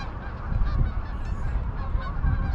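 A large flock of geese honking continuously outdoors in Calgary in January, a dense overlapping chorus at steady loudness.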